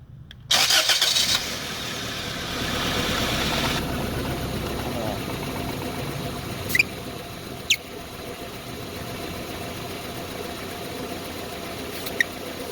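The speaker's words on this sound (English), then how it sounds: "once I hit the starter switch, the car should start" A car engine cranks and catches during a compression test, then settles into a steady idle that runs on, with a few sharp metallic clicks over the running engine.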